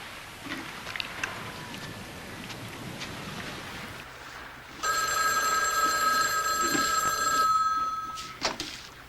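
A telephone rings indoors in a single sustained electronic trill lasting a few seconds before an answering machine picks up, following a stretch of quiet room noise and faint rustling.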